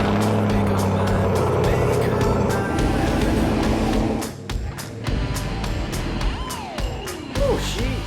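A Chevrolet Silverado pickup's engine rumbles loudly up close, then the sound thins out as it pulls away amid clatter and shifting road noise.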